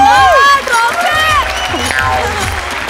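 Studio audience of a Marathi comedy show, Maharashtrachi HasyaJatra, breaking into loud applause and cheering, with whoops and voices rising over a dense wash of clapping that eases off after the first half second.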